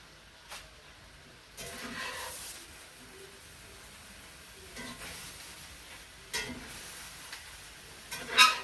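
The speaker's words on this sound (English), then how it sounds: "We're going to let this meat get a little sear on it. It's getting a nice sear." Meat searing in a hot pan with a quiet, low hiss of sizzle and a few brief swells of stronger spitting, close but faint overall.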